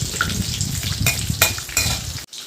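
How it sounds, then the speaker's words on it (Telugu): Chopped onions and green chillies fry in a pan for egg biryani, a steady close sizzle broken by a few sharp stirring scrapes and clinks before it cuts off abruptly. "ఫ్రై అయిన తర్వాత మనం కోసి పెట్టుకున్న ఉల్లిగడ్డలు పచ్చిమిరపకాయలు వేసుకున్నాం"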